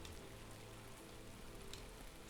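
Steady rain patters down in the Skywind game world, a continuous soft wash of drops on surfaces with no voices over it.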